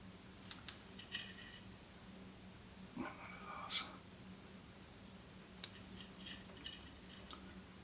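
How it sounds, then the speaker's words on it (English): Small scissors snip fly-tying material on a hook in a few soft, close clicks spread across a quiet room, with faint handling noises between them. "we take our scissors again and we just trim that off the same height as the body"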